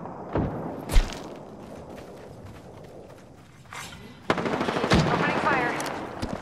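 Automatic weapon fire in the Apex Legends battle game, with rapid bursts and sharp single shots of varying loudness, the firing growing denser and louder in the second half, alongside thuds and footsteps and brief voice lines.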